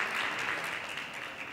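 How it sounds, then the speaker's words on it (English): Audience applause at a convention presentation, a steady wash of many hands clapping, moderately loud and continuous without talk. "Round of applause there."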